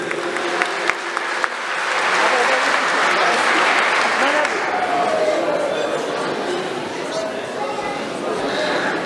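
Wedding guests at a Turkish wedding ceremony break into sustained, loud applause that swells, holds and slowly thins out, with some crowd chatter underneath.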